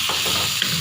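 Boiled potatoes are stirred into softened tomatoes in a hot pan, giving a brief, dense sizzle and frying hiss with soft scraping underneath.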